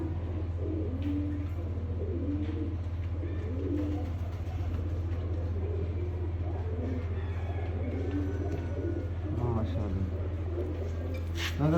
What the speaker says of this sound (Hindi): ये जी दोस्तों कबूतर है